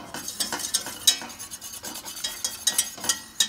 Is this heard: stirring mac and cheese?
yes